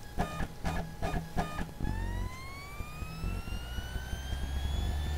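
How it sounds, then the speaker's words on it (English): A CD spins up inside an external drive while burning MP3 files, with a few quick clicks and then a thin whine that climbs steadily in pitch and holds, close and fairly quiet. "We can hear the disk is spinning inside the drive."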